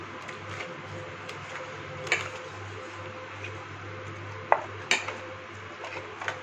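Catla fish pieces being rubbed with salt and turmeric in a metal pot, producing soft wet handling sounds under a steady low hum, broken by a few sharp clinks of metal against the pot.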